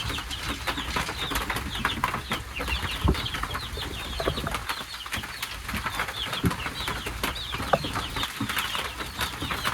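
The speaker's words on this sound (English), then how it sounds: "the chirping of the chicks around" Chicks chirp inside a chicken coop during a build, with rapid high peeps scattered throughout over steady rain drumming on the roof and occasional knocks.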